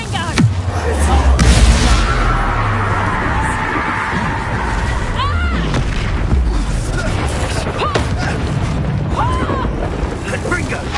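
In the video game Hogwarts Legacy, the Confringo fire spell sets off heavy explosions. A loud boom opens into a long, rolling rumble that stays close and dense, with voices heard in the mix.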